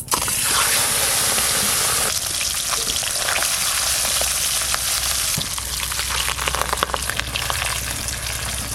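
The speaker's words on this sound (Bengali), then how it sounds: "মাছগুলো ভালো করে ভেজে নেব।" Fish frying in hot oil in a pan for a fish curry, a loud continuous close sizzle with crackling bursts, steady throughout with no speech.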